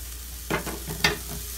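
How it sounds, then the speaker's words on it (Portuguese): Onion fries with seasonings in olive oil in a soup pot, a soft steady sizzle broken by two brief stirring scrapes. "Fritar a cebola com os temperos."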